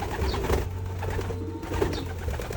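A pigeon coos low and steady nearby, a couple of soft throaty calls over a faint background hum, with no voices.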